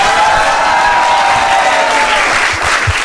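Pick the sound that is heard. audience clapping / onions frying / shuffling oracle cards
audience clapping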